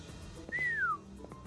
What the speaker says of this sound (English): Nice whistle, Rudia.